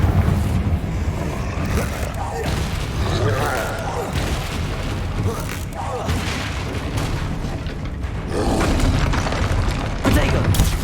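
Confringo, the explosive fire spell in the video game Hogwarts Legacy, goes off amid dense, loud, continuous combat: deep booming blasts layered over rumbling effects and music, with a voice calling out under the din.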